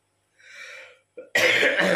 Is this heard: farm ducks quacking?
no